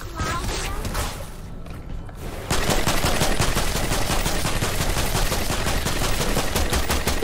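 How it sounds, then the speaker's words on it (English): Rapid machine gun fire in Fortnite: after a short lull, a dense, unbroken stream of loud shots rattles close for several seconds. "I bought a new machine gun!"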